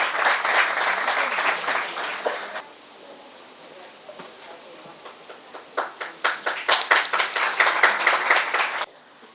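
An audience at an international pharmacy conference applauds the award winners. The clapping opens loud, drops to a faint patter, then builds again into sharp, distinct claps before cutting off.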